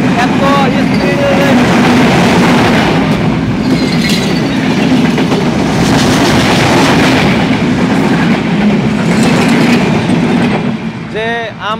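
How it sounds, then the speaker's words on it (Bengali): Train rushing past at high speed very close by, a loud continuous roar with rattling wheels on rails and a squeal of metal near the end as it passes. "আজকে এত কাছে থেকে যে ট্রেনটা দেখলাম"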